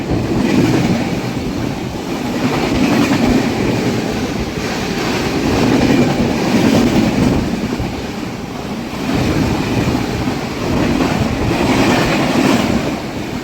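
The Nizamuddin–Hyderabad Dakshin Express passes close by, a loud, steady rumble of rolling wagons with rhythmic clickety-clack of wheels over rail joints, swelling and easing in waves for the whole stretch.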